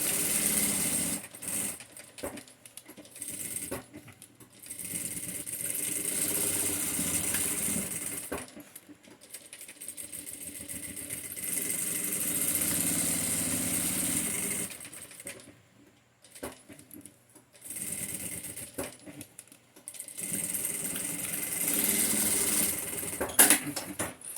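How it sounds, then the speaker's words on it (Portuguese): A sewing machine stitching a seam on a fabric mask holder runs in bursts of fast, even mechanical whirring, stopping and restarting several times at close range. "Então eu passo uma costura."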